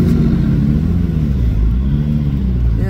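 McLaren Artura Spider passing at a Honda car meet at the Nürburgring, a loud, close engine roar with rising and falling revs sweeping past.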